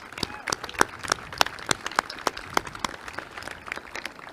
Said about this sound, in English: I would just ask you to give them a round of applause